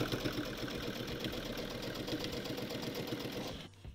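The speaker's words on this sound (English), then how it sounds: "So I'm just going to continue sewing my binding all the way around the edge of the quilt" A sewing machine stitching binding around the edge of a quilt runs as a steady, continuous mechanical whir, close and even throughout before cutting off near the end.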